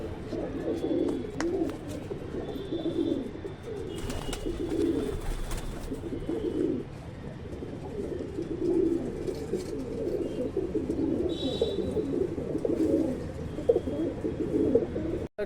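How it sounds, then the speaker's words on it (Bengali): Pigeons, including a male fantail pigeon, coo in low repeated throaty phrases throughout, close and steady, with faint bird chirps and occasional rustling around them. "একটা ফুলশিরা নর পায়রা"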